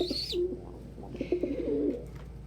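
Pet birds cooing softly at close range, a pigeon- or dove-like coo preceded by a short high chirp, with a few breathy coos and faint rustling through the rest.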